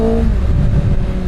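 A Kawasaki ZX-6R supersport motorcycle revs in third gear at low RPM, giving a loud, close, continuous engine drone with a steady rumbling pulse and no talk.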